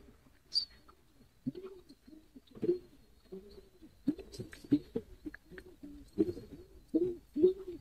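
Soft, low coos from caged Beauty Homer and Lakka pigeons repeat in short phrases throughout, close by, with a brief higher chirp near the start.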